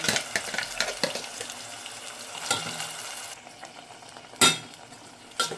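Masala paste for fish curry frying in a pan, a steady sizzle broken by spoon scrapes while stirring and a couple of sharper metal clanks near the end.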